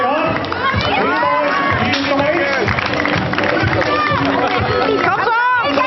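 A crowd at a strongman contest cheers, claps and shouts continuously and loudly for Mikkel, with voices chattering throughout the noise.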